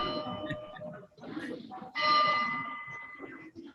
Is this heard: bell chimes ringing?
yes